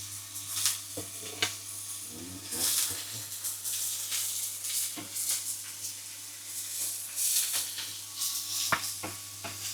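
Mushrooms for chicken Normandy fry in a pan with a continuous close sizzle and hiss, broken by occasional scrapes and stirring clatter and no speech.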